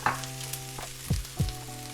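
A green kebab base for a vegan hara bhara kebab cooks in a pan as mint and coriander leaves are added. A soft steady sizzle runs under a low hum, with a few dull thuds and clatters nearby and no talking.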